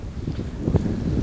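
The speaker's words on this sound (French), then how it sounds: "le vent lui est presque toujours aussi fort" Strong wind at sea off Porquerolles buffets the microphone in low, gusty bursts, a rough blustery roar with no talking.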